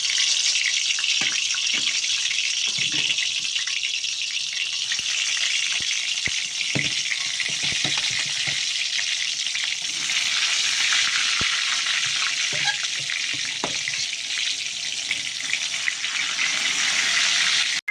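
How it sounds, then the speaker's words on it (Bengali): Brinjal (eggplant) fries in oil in a wok, a loud, steady close-up hiss of sizzling that runs unbroken throughout, with faint occasional clicks and no talking. "এবার বেগুনটা ভেজে নেবো"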